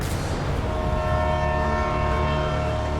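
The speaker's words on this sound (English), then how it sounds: "About 100 feet below him is live trains going by back and forth." Trains roll along tracks roughly a hundred feet below a canyon highway, a loud continuous rumble with sustained tonal hum layered over low engine noise, steady throughout and without speech.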